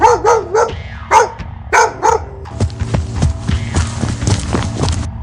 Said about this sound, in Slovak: Zrazu sa z lesa začnú ozývať výkriky a štekot psov.